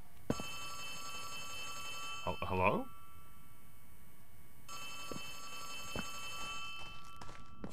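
Telephone in the Poppy Playtime Chapter 3 video game rings in repeated bursts of bright electronic tones, moderately loud, with a brief spoken word and other game sounds between rings.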